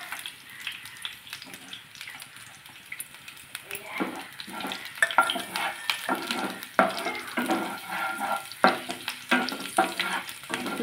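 Chopped shallots and ginger pieces frying in a pan, a quiet start building into busy crackling sizzle with repeated stirring scrapes, close and moderately loud.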